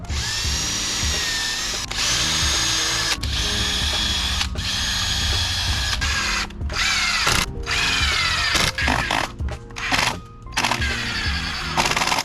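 A power drill whines in repeated bursts as it drives 2.5-inch wood screws into a wooden border, with short pauses and clicks between screws.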